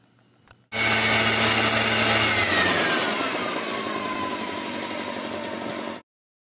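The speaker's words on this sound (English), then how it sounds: "How about a backpack blower?" A backpack leaf blower runs at a loud, steady, close roar after a brief start, its pitch easing slightly downward as it holds for several seconds before cutting off abruptly.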